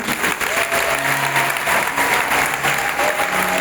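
A church congregation applauding loudly during a prayer service, dense sustained clapping from many hands filling the room, with faint voices mixed in.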